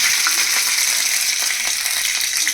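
Mustard seeds and cumin sizzle in hot oil for a tempering, a dense, steady, close crackling hiss with scattered small pops that carries on without a break and with no talk.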